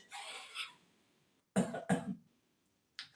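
A voice imitates a long, drawn-out cough: a wheezy exhale followed by two harsh coughing bursts and a short final one.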